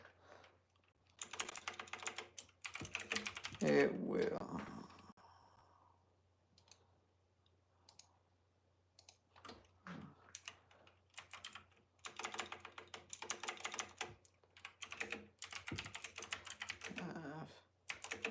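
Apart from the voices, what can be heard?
typing on a computer keyboard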